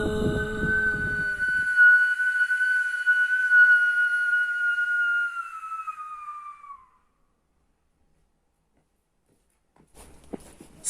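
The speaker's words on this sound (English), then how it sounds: "This whistle was emitted at nightfall." A Silbo Gomero whistle announcing a death at nightfall: one long, loud, sustained tone that glides slightly downward for several seconds, then fades into silence, with faint rustling near the end.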